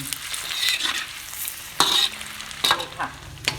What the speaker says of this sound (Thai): เราทอดไข่มาได้สักพักแล้วนะคะ